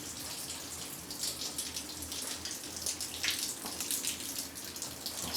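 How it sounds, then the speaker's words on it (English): Water rushes steadily through an old drain system at a historic mill, a faint continuous hiss and splash with no voices over it. "And there you can probably hear the water."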